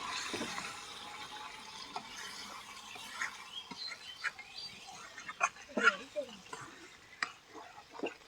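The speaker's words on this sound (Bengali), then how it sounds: "এবার জল দিয়ে দিব বেশি জল দেবো না অল্পই দিলাম" Water splashes into a pan of thick chicken skin curry, followed by soft bubbling and scattered clinks of stirring, fairly quiet and close.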